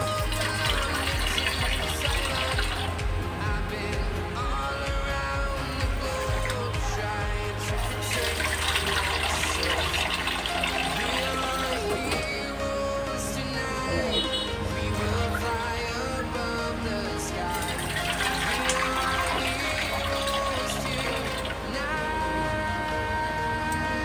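Water pours steadily into a cooking pot while making pumpkin soup, a continuous close splashing and filling sound that lasts throughout with a slight change in tone partway.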